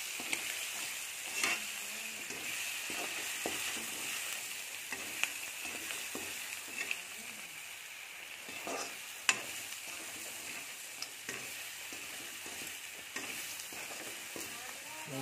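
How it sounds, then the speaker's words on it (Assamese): Turmeric-spiced food fries in a pan while being stirred, a soft, steady sizzle with faint scrapes and occasional light taps of a utensil over about fifteen seconds. "এয়া লৰাই দিছোঁ।"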